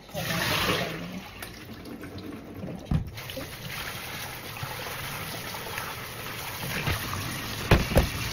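Water drains steadily from freshly washed grapes and strawberries, a continuous splashing rush with a few louder spills near the end.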